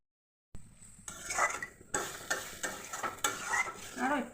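Small fish frying in hot oil hiss and sizzle loudly and steadily after a splash of water goes into the pan, with stirring and utensil scrapes against the pan throughout.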